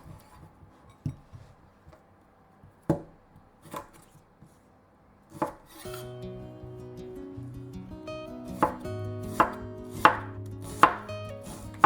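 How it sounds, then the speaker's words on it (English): Half an onion chopped with a knife on a cutting board: sparse, isolated knife strikes at first, then a quicker run of sharp, close chops with a faint background hum. "Cut half an onion."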